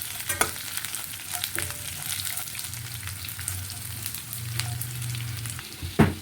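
Pre-roasted peanuts fry in a pan with the base for raw totapuri mango chitranna, giving a continuous close sizzle with repeated stirring scrapes and a sharp clank near the end.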